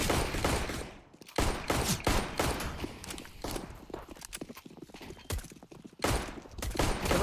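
Gunfire in a shooting video game: dense, rapid bursts of shots crackle almost continuously, with brief lulls between volleys.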